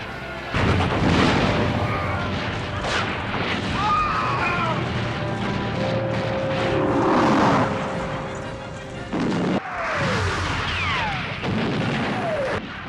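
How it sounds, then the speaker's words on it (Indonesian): Heavy large-calibre cannon booms roll out repeatedly over a dense, chaotic battle din at Waterloo, with whistling shells and rumbling blasts layered throughout. "Kini giliran meriam kaliber besar dikerahkan oleh Napoleon"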